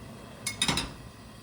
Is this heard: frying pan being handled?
yes